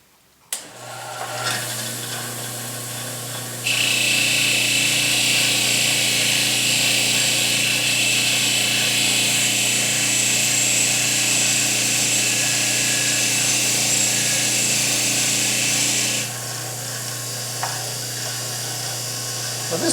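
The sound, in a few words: wire wheel on power tool cleaning an iron head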